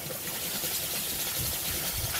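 Water bubbles and trickles steadily inside a container while a car's A/C is charged with EnviroSafe refrigerant, a close, continuous gurgling wash with no talk over it.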